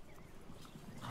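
Game horses in Ultimate General American Revolution give quiet hoof clip-clops with a faint whinny, brief and low under a soft background hum.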